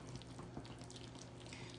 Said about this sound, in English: So I'm just going to add a little bit of water.